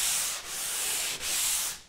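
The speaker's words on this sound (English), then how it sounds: "This is a sanding sponge, it's a medium grit" A medium grit sanding sponge rubs along a drywall edge in a finished basement, giving three steady, close, loud abrasive strokes with brief breaks between them and no talking.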